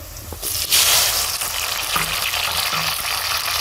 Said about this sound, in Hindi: हमारे प्याज फ्राई होना स्टार्ट हो गए हैं